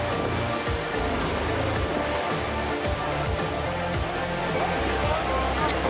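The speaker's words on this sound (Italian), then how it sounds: "Il mare è parecchio mosso." Rough sea around a rocking boat off Porto Venere and the Cinque Terre, a dense continuous wash of water and wind noise with a low rumble, steady and loud.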